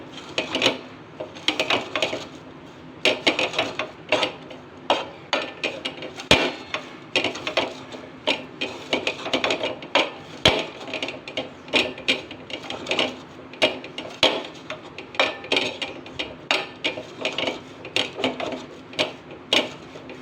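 Green chillies being pounded into a coarse Maharashtrian kharda thecha make repeated sharp, irregular thuds and knocks, fairly close and loud, continuing steadily for about twenty seconds.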